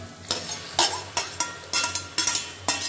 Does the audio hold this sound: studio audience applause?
no